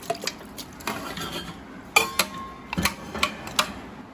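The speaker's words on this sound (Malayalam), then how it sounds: "ഇത് നമുക്ക് ഈ കുക്കറിലോട്ട് ഇട്ട് കൊടുക്കാം" Cleaned mutton pieces, about 1.5 kilograms, going into a pressure cooker, with a series of sharp metallic clinks and knocks of pot and utensil at close range, a few louder clanks spaced irregularly.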